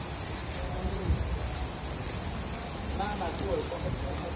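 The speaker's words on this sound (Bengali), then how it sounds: "এই যে প্রচন্ড বৃষ্টি, যেখানে দাঁড়িয়ে আছি ওইখানেও বৃষ্টি আসতেছে।" Heavy rain pours steadily as a dense, continuous hiss close by, with people talking faintly underneath.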